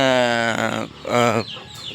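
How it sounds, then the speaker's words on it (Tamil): A mother hen of a native country chicken breed clucks close by, two drawn-out, nasal calls separated by a short gap, followed by fainter chirps, with no talk over them. "ஒரு தாக்கோழி தானே ஒரு தாக்கோழியில் எத்தனை தா குஞ்சு இருக்குது பார்த்தீங்களா"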